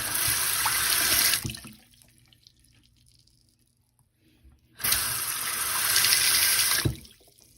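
Tap water runs and gurgles down a partly unclogged sink drain after several treatments, flowing in two loud bursts of about a second and two seconds with a quiet pause between them.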